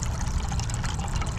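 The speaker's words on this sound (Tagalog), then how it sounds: "Maglalagay ng tubig." Water pours steadily into a cooking pot over a wood fire, a continuous close splashing stream with no talk.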